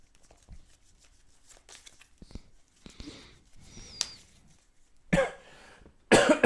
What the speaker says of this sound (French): Ah bah je tousse toujours.